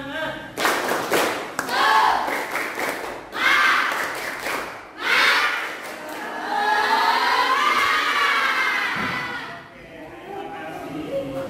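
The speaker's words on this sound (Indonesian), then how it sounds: "kita tepuk semangat dulu biar semuanya tambah semangat" Fifth-grade schoolchildren in a classroom do a rhythmic spirit clap, loud bursts of clapping in patterned groups mixed with thumps and shouted chanting voices, then a stretch of children calling out together.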